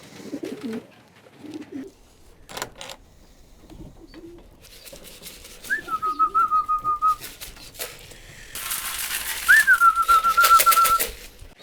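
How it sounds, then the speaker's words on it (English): A man whistles rising-then-level calls and shakes a food tin to call Belgian racing pigeons, two clear whistle phrases with rattling under the second, while pigeons coo softly in the loft between them. "when I whistle and shake this food jug or tin, it means it's time for food"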